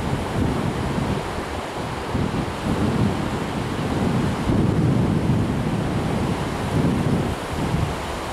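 Baltic Sea waves wash in continuously at Majori beach, Riga, with a broad, rushing roar, swelling and receding in soft surges amid steady wind, no voices present.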